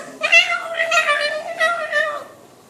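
A cat meows in one long, drawn-out, harmonic wail that rises and falls in several pulses, close and clear against a quiet background.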